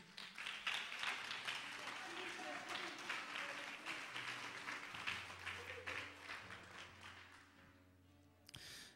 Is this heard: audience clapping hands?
yes